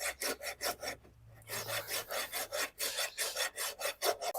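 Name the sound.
scoring a horse hoof during barefoot trimming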